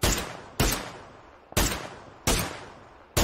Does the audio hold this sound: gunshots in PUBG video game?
yes